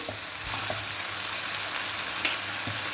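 Garlic paste frying in a pan while cooking a chicken tikka filling, a soft continuous sizzle with a few faint stirring clicks and taps.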